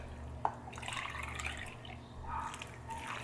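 Water pouring and dripping into a pot of uncooked rice for mushroom rice, soft and close, with a faint splash and trickles over a low background hum.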